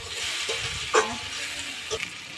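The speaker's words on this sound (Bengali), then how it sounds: "পেঁয়াজ আর টমেটোর সাথে আলুটা খুব ভালো করে ভেজে নিয়েছি।" Potatoes frying with onion and tomato in a pan, a steady dense sizzle throughout with a couple of soft stirring scrapes rising briefly above it.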